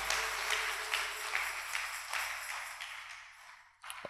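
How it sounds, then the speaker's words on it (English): A church congregation claps together during a sermon, a loud burst of scattered hand claps that thins out and fades toward the end, with no one speaking. "give the Lord a mighty clap"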